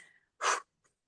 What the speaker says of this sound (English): Breathing out, little puffy breaths.